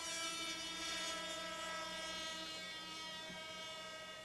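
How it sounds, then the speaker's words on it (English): Radio-controlled twin-engine F4 model plane from a Tom Cook kit, weighing 20 pounds with a 58-inch span, powered by two Rossi 65 glow engines, a steady high buzzing drone held at distance and faint throughout. "his fantastic twin-engine F4, built from a Tom Cook kit, powered by two Rossi 65s"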